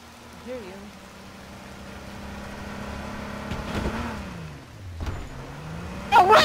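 A car in the video game Just Survive drives nearby, its engine droning and shifting in pitch as it approaches and passes, with a player talking over it.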